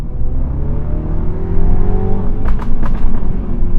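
A Mini John Cooper Works accelerates hard with a loud, close engine and exhaust roar that rises in pitch, followed by a few sharp crackles and pops near the end.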